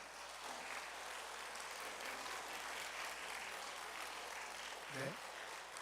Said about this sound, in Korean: 인사할 때 우리 박수 한번 같이 한번 하겠습니다.